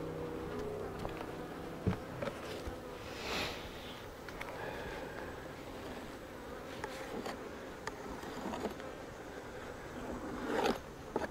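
Honey bees buzzing around an opened beehive during a late-summer honey check, a faint, steady hum with occasional rustles and scrapes of frames being handled nearby.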